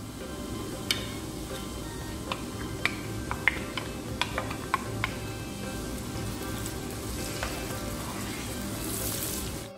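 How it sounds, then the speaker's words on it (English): Chopped onions and garlic fry in a pan while cooking chicken kabsa, giving a steady dense sizzle throughout with scattered sharp crackles and pops, close and continuous with no talking. "We'll fry it till it becomes golden brown."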